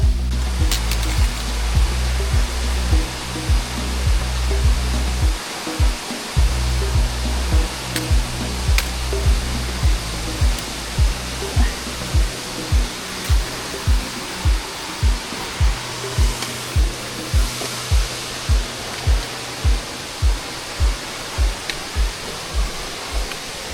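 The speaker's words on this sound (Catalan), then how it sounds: "Para visitar la cascada se las trae." El Monstruo waterfall in Millares roaring as a steady, loud broadband rush of falling water, close and continuous, with a rhythmic low thumping and buffeting through much of it, like wind or handling noise near the recorder.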